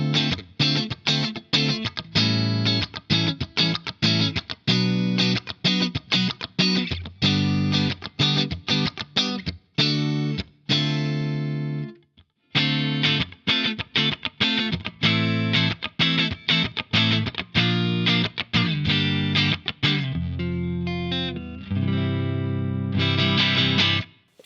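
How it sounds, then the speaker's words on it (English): An electric guitar strums rhythmic chords through a clean amp tone for an extended stretch, briefly pausing midway before resuming, the tone bright and ringing. "you just get these beautiful clean tones that you're used to hearing with a Strat."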